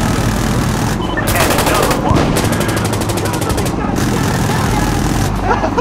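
A gunner's machine gun in Insurgency: Sandstorm rattles in several rapid automatic bursts, loud and close over continuous rumbling combat noise, with voices talking over it.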